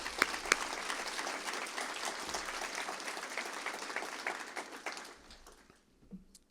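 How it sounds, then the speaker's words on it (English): A university faculty and staff assembly breaks into steady, full applause that lasts about five seconds and then fades to a few scattered claps. "Give them a round of applause, please."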